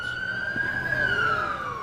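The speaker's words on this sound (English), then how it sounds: "Sirens." A police siren wails steadily, one long rising and falling tone, fairly close and loud against background street noise.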